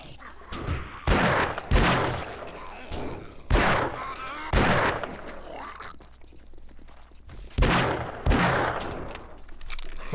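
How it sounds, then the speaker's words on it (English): Magnum revolver fired in the video game 7 Days to Die, heavy booming shots spaced a second or more apart, each with a loud sharp crack and a ringing tail, with some quieter game noise between them. "This Magnum does so much damage."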